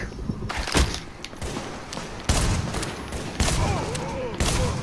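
Gunfire in The Division video game, a series of sharp repeated shots and thuds in an uneven burst pattern, moderately loud against a busy game background.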